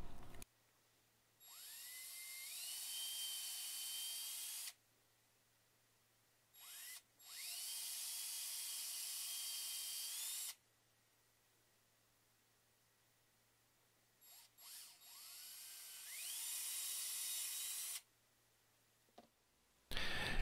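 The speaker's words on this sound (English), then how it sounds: "I decided to try to eliminate any kind of drill bit drift when I drill the holes into the lure" A small drill spins up to a high whine while boring holes in a crankbait lure made of MDF. It sounds in three separate runs with short quiet gaps between them, faint and with no voice.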